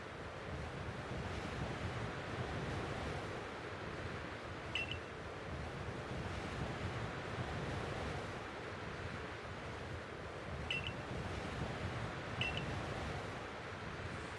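Steady ocean surf and wind wash over the shoreline in Pokémon Legends: Arceus, a continuous rushing roar with a few faint small chimes scattered on top and no voices.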